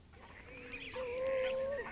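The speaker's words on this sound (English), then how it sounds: "This duck is courting." A courting duck gives a single drawn-out nasal call with a whistle-like tone, close and fairly loud, held for about a second before breaking off.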